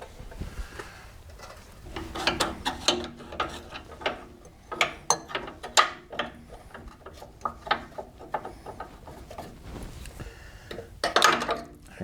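A hand ratchet clicks in quick irregular bursts while bolts are loosened on the front suspension of a 2000 Chevy Silverado, close up with metallic clanks mixed in.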